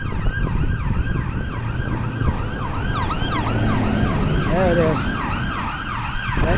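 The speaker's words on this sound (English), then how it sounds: "I hear an ambulance somewhere." An ambulance siren wails in a snowy city street, its rising and falling sweeps clear and fairly loud over steady wind and traffic rumble, with a brief spoken remark.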